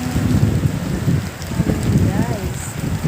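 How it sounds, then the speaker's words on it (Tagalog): Heavy rain during Typhoon Pepito pours down in a dense, constant roar, loud and close, with faint whistling gusts of wind briefly rising through it. "Ayan, ang ulan sa amin."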